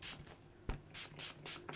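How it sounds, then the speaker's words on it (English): A spray bottle mists fabric during sewing, with several short hissing spray bursts close by, separated by quiet moments and a light tap. "So, just give that a little spray."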